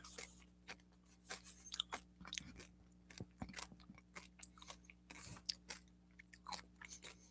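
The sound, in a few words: chewing food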